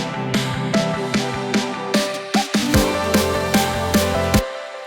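Pitched-up Yamaha VSS synth sample used as a transition, a run of bright, rhythmic stabs over a tonal bed, about a dozen hits in quick succession, loud and alone.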